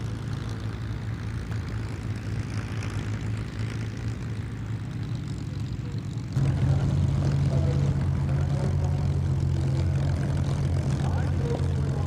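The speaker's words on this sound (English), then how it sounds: "And naturally, we'll start with Spitfires and Hurricanes." Spitfires and Hurricanes with Merlin engines droning through a flypast at an airshow marking the Battle of Britain anniversary, a steady loud propeller roar that swells and thickens midway as more aircraft pass close overhead.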